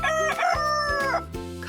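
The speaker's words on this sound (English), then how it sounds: "R is for rooster." A rooster gives one loud, close cock-a-doodle-doo crow with a strained, harmonic quality, lasting under two seconds.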